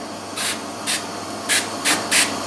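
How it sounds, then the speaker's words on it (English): An oil spray is aimed at a cutting board during a messy oiling job. There are five short, sharp hissing bursts at uneven intervals, close and distinct against a faint background hum. "Okay, so I'm just gonna spray some on here. It's getting everywhere."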